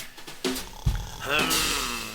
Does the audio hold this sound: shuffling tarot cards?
no